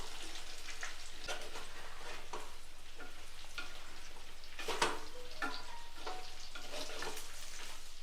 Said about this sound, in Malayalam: ഇനി ഇതിലേക്ക് മുരിങ്ങക്ക ഇട്ട് കൊടുക്കാം. മുരിങ്ങക്കയും കൂടി ഒന്ന് വഴറ്റിയെടുക്കാം.